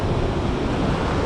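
Steady roar of ocean surf breaking on a South Shore beach back East, loud and continuous with wind buffeting the microphone, no voices.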